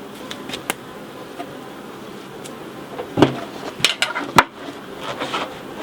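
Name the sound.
honeybees buzzing around an open hive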